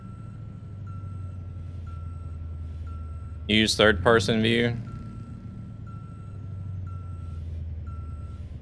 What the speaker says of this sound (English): Listen to that truck. It sounds awful.